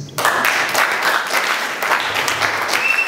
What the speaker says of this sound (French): Applaudissons une fois de plus. Applaudissons très très fort.